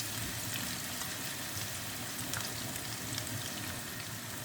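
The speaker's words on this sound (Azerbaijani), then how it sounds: "Qızardıram, çıxarıram və yenidən digərlərini əlavə edirəm." Eggplant pieces fry in hot oil in a pan, giving a steady, fairly quiet sizzle and crackle that runs evenly with no voices.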